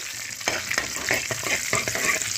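Mustard seeds, cumin and dry red chillies sizzle in hot oil for a tempering, a close steady crackle broken by sharp pops and spatters, with no talking.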